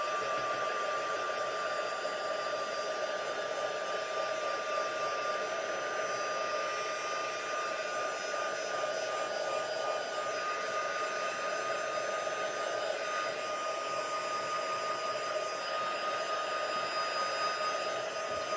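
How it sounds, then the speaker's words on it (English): A craft heat tool blows continuously at close range while drying a card, giving a steady, loud whirring hiss with a constant tonal whine throughout and no voices. "heat tool out and plug that in. Let's just get that a little bit drier."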